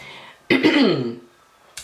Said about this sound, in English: pardon me if I keep clearing my throat